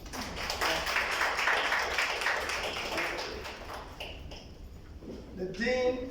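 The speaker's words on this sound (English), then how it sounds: "Give our dean a round of applause." Seated audience at a university book discussion clapping for the college dean, a dense round of applause that fades after a few seconds, followed by faint speech.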